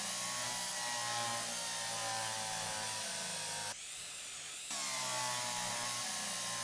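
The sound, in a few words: power drill in video game Derail Valley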